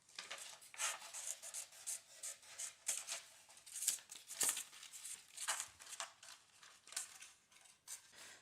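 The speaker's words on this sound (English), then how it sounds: "do you see the way I'm cutting it here? I'm cutting into there and then I'm cutting over here." Scissors cutting out a paper dinosaur template, a rapid run of crisp snips and paper rustles, close but quiet, with no talking.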